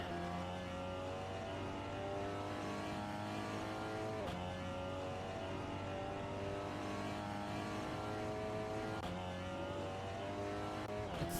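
Race car engines roar through a Nürburgring Nordschleife lap in a racing game, with a Lamborghini Countach among them; a loud, continuous, high-revving drone rises and falls in pitch, with gear-change dips around four and nine seconds.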